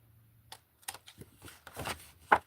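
Scissors trimming craft material up close, a handful of short crisp snips and rustles, the last cut loudest, with no talk.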